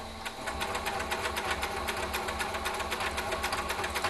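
Sewing machine stitching Christmas fabric, a close, steady, rapid mechanical whirr of needle strokes running continuously after a brief start.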